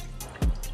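Coconut milk straining through a cotton cloth, with a single distinct drip landing briefly against a faint steady background and no voices.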